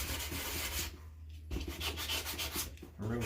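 Coarse sandpaper rubs back and forth over a part from a 1939 Graham under restoration, a steady close scratchy rasp with a brief pause in the middle.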